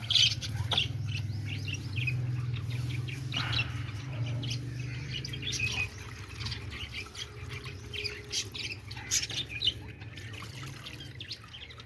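Parrots being fed grain chirp and squawk in short, scattered calls over a low background hum, some calls sharp and close, others softer.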